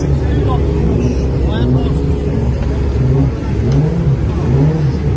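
Porsche Cup race car engines rev loudly and continuously at Goodwood, a dense mechanical roar with rising pitch sweeps, while a crowd murmurs underneath.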